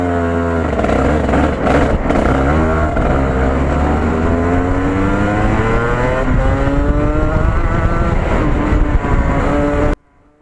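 A professional go-kart engine fires up and revs hard, its loud, buzzy note climbing steadily in pitch as it accelerates, then cutting off abruptly at the end.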